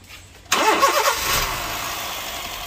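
A warm Honda City i-VTEC petrol engine cranks and catches after a brief quiet moment, flaring loudly, then settling into a smooth, steady idle nearby.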